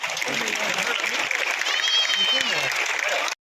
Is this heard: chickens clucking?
no